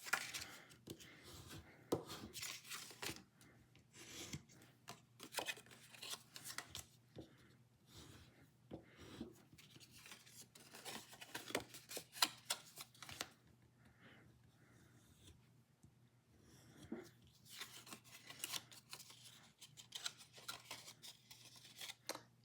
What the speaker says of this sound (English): I am going to grab a bone folder, and we'll go over those score lines a bit.